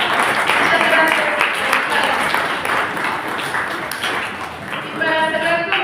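Audience applause for don Gonzalo at a night of southern Jalisco legends, a steady wash of clapping through most of the clip, with a voice speaking over it near the end.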